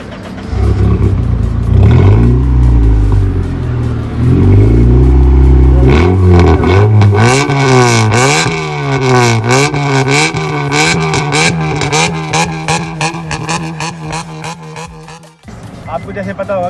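A modded Honda Accord engine cranks, fires up and then revs repeatedly, loud and close, with rising and falling pitch sweeps and throaty bursts.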